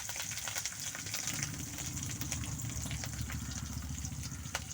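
Onion frying in oil with mustard seeds, urad and chana dal and curry leaves for a beetroot potato curry, a steady dense sizzle with scattered pops and crackles, close and continuous with no talk.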